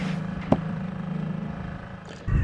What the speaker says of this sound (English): Time to start up the outboard and motor in to the harbour.